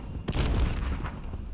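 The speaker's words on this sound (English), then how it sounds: "Now the question I have is who's throwing that grenade?" A grenade goes off in Call of Duty: Modern Warfare with a sudden, booming blast that rumbles briefly before fading. It stands alone, moderately loud, with no one talking.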